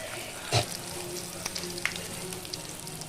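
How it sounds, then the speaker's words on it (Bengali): Chicken pakoras fry slowly over a low flame in white oil in a wok, giving a faint, steady sizzle with one brief knock near the start and no talk. "অল্প আঁচে এটাকে ভাজতে হবে, নাহলে ভেতরে চিকেন আছে তো এটা সেদ্ধ হবে না।"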